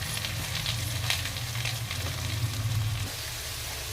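Mustard seeds and cumin sizzling in hot oil, a continuous close frying hiss with faint crackles and pops, steady throughout and without talking.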